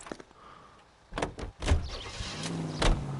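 Car door thuds and an engine starting as a detective climbs into a car in the L.A. Noire video game, a few sharp knocks followed by a low steady rumble.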